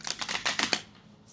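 Tarot cards are shuffled in a quick run of five or six crisp riffling snaps, close and moderately loud, then the sound trails off into quiet.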